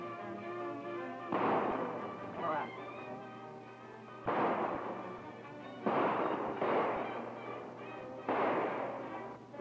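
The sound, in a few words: gunshots in 1935 film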